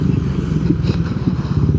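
A motorcycle engine with a stock exhaust idles in a low, steady rumble, loud and close throughout, with no other sound standing out.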